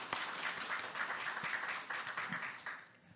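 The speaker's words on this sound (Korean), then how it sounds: "박수 부탁드리겠습니다" Quiet, distant clapping from the audience at a government meeting, a soft rattling patter that holds steady for a few seconds.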